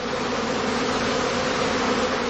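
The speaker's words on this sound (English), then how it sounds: "The prime swarm flies off." A honeybee prime swarm lifts off from a heather skep in a heathland apiary, a dense, steady buzzing drone of many bees that fills the air continuously at close range.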